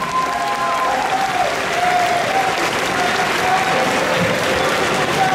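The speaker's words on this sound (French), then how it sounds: "On l'applaudit très très fort, s'il vous plaît." A crowd at the Yggdrasil 2024 costume and cosplay contest applauds, a loud, dense and unbroken roar of clapping with a few cheers over it.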